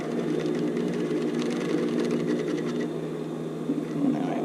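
A domestic sewing machine stitching the hem of a tankini swimsuit, running in a steady continuous whir with a rapid needle rhythm, close and fairly loud, no talking.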